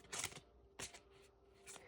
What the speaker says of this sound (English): Stop shuffling real quick.